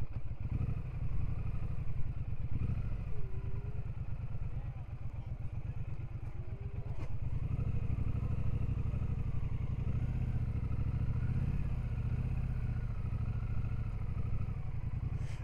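A Triumph Speedmaster 1200 rumbles along at walking pace through busy traffic, a low, steady thrumming engine with light mechanical clatter, heard from the rider's position beneath faint background noise.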